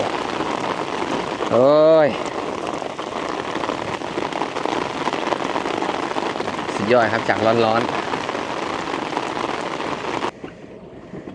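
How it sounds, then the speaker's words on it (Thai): Rain pours steadily over water around a kayak on a river, a dense hiss that continues throughout. Someone speaks over it, and a short whistle-like tonal sound rises twice, before the rain noise drops away near the end. "เสียชุ่มฉ่ำบรรยากาศท่ามกลางสายฝน"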